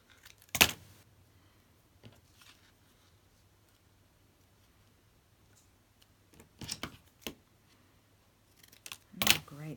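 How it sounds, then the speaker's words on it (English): Scissors snip paper into a tag shape for handmade Christmas ephemera: one sharp cut, a pause, then a quick cluster of close snips and a final cut, in a quiet room. "Might cut this one into a tag shape."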